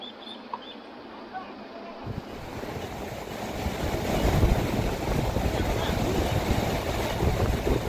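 A swollen stream rushes around a vehicle stuck in the water near Marfa village in Nepal, a loud churning roar of water that builds after a quieter opening and continues up close.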